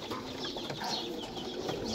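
Mixed pigeons kept at a loft in Sarai Alamgir, Jhelum, coo softly and low. The faint calls sit in a quiet, slightly noisy background with no talk.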